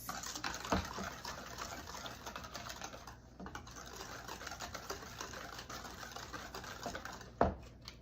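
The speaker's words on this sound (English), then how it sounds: "Just gonna whisk this for a couple minutes." A whisk beats yellow Duncan Hines golden fudge cake mix batter in a bowl, making a steady, dense, close rattle with a couple of sharper clinks against the bowl and no talk.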